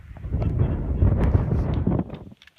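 Strong gusting wind on a mountain along the Appalachian Trail buffets the microphone in a steady low roar that drops off near the end.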